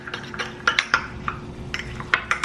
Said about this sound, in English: I'm just gonna mix it together.